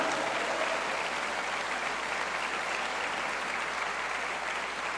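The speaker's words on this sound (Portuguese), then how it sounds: "Podem glorificar e aplaudir o Senhor nesse lugar?" A church congregation applauds together during a service, a thick, sustained sheet of clapping from many people that stays level and unbroken for the whole stretch.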